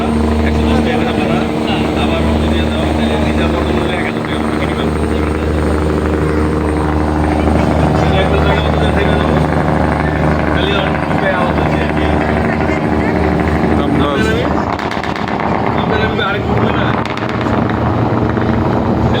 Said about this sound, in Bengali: ওই সামনে একটা লঞ্চ আসতেছে